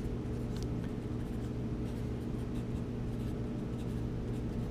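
Code is written out by hand, with a continuous soft scratching of pen on paper over a steady low background hum.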